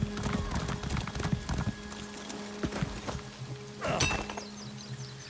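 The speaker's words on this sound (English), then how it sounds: "oh my god, you got on a horse." Horse hooves clip-clop at a steady trot in The Elder Scrolls Online: High Isle, with faint clinks and game ambience around them and a brief louder burst near the end.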